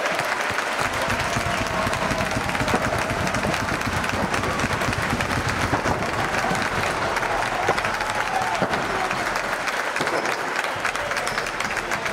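Sustained applause fills a basketball arena after the Lliga Catalana EBA final between Sol Gironès Bisbal Bàsquet and Mataró Parc, a steady dense wash of clapping from the stands, fairly distant, with a little crowd murmur underneath.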